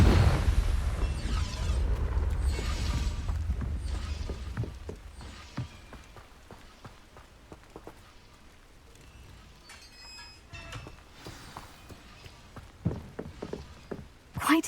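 A Confringo fire spell explodes in Hogwarts Legacy with a heavy, rumbling blast at the start that slowly fades into scattered crackles, debris patter and footsteps, and a few sharper bursts near the end.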